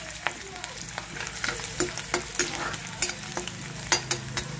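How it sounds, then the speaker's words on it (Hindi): Cashews, green chilies, ginger and garlic frying in a pan, a dense continuous sizzle with repeated scraping stirs throughout, loud and close. "गोल्डन जैसे ब्राउन हो जाए ना उतना इनको फ्राई करना है"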